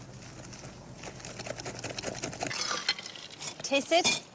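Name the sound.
stirring salad in a bowl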